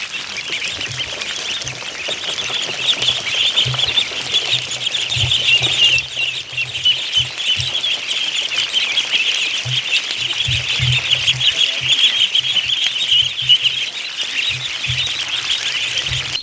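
Muscovy ducks let out of their pen, giving soft, breathy low calls in scattered bursts close by, over a steady high outdoor hiss, with no talk.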